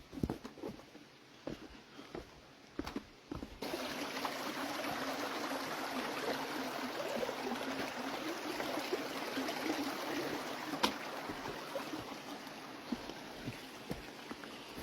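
Steady rushing water from a nearby creek on the Appalachian Trail, a broad continuous wash with occasional knocks and clicks layered on top.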